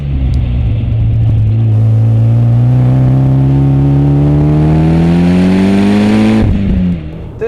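A tuned Mitsubishi EVO X engine pulls hard on canyon roads, a loud close drone rising steadily in pitch under acceleration before a sharp lift-off near the end.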